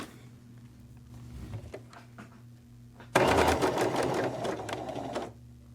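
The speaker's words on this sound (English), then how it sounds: "And now I'm going to start sewing forward." A sewing machine stitches forward along a roughly 1/4 inch seam, a loud, steady mechanical whir running for about two seconds after a quieter stretch of faint handling clicks.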